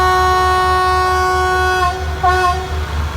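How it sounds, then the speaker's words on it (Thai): Rapid train No. 108, Den Chai to Bangkok, sounds a long sustained horn while departing Sila At station in Uttaradit, followed by a couple of shorter toots over the low diesel rumble. "ขบวนที่ 108 นะครับรถเร็วเด่นชัยกรุงเทพนะครับ อออกจากชานชลา นะครับ"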